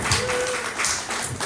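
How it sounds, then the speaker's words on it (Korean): A church congregation claps in applause, a brief burst of many hands that swells and dips across the room, with a voice faintly underneath. "박수!"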